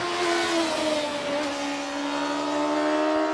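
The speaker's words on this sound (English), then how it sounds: "This one, the OMS Hornet, with a 599cc motorcycle engine, which you can hear screaming its way up the hill now." An OMS Hornet single-seater hill climb car with a 599cc motorcycle engine screams up the hill at high revs, a sustained loud whine with shifting pitch heard from nearby.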